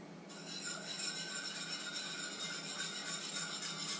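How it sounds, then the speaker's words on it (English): Milk, sugar and a pinch of salt whisked lightly in a pot over a low boil, giving a steady soft rasping swish that runs continuously at moderate closeness. "I'm going to take a whisk, and I'm just going to whisk this mixture lightly."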